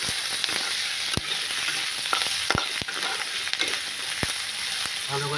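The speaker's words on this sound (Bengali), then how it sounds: "ভালো করে ভাজতে হবে, একে ভালো করে ভেজে তারপরে করতে হবে।" Tomatoes, ginger, garlic and spices fry in a pan for a fish kalia, a continuous loud sizzle punctuated by sharp, irregular spatula clacks against the metal.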